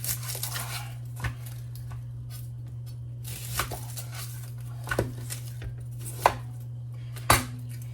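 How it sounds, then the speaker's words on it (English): Onions being cut with a knife on a board: a handful of sharp, spaced chopping knocks over a steady low hum, with soft scraping between strikes and no voices. "cut up a couple onions"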